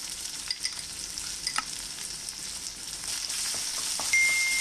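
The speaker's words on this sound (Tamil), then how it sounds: "இது கொஞ்சம் நல்லா இந்த பச்சை வாசனை போகிற வரைக்கும் நான் ஃப்ரை பண்ணிடுறேன்" Onion, green chilli and ginger-garlic paste fry in a pan for a chicken kola urundai snack, giving a steady soft sizzle with occasional stirring scrapes that grows slightly louder toward the end, with no talking.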